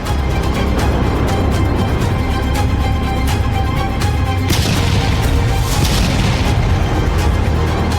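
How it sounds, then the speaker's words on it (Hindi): Iranian Khaibar and Imad missiles launch and explode in a continuous loud roar with booming, crashing bursts and a harsher surge partway through, heard without speech. "ईरान ने इजराइल की तरफ से ताबड़तोड़ मिसाइलें दागी हैं।"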